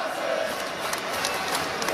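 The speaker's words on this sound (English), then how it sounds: "Now they're chanting his name" A college basketball crowd at a Gonzaga Bulldogs versus UConn NCAA men's game chants a player's name, a loud rhythmic mass of voices filling the arena.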